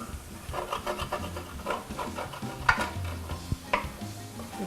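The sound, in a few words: wine deglazing a skillet with garlic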